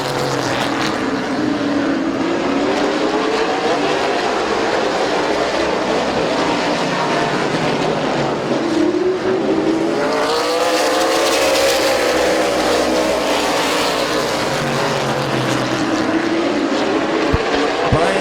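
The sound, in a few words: race cars racing at Midvale Speedway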